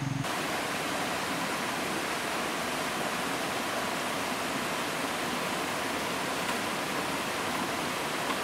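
The Pamjaal waterfall roars in a jungle setting: a steady, dense rush of falling water fills the whole stretch without a break, even and unvarying, with no voices.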